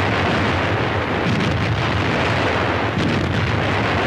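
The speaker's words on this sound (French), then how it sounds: "De jour comme de nuit, les canons mêlent leurs aboiements rauques aux grondements des blindés." Artillery guns fire in wartime during the 1945 battle for Colmar, a dense, rumbling barrage of booms and heavy thuds mixed with the growl of armoured vehicles, loud and continuous with no voices.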